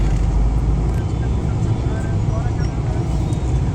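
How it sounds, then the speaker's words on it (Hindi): Dense, steady road traffic in a crowded Indian town where traffic is managed by hand, a continuous loud rumble of engines and vehicles with no break, heard close by. "बाईपास अभी चालू नहीं हुए तो इसलिए लगता ही है ट्रैफिक।"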